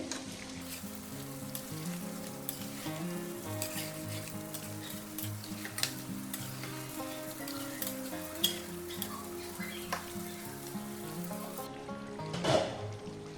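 Chicken curry with cashew paste sizzles in a kadai over a low flame, a continuous soft crackle with occasional stirring clicks and a brief liquid splash near the end, under quiet tonal background music.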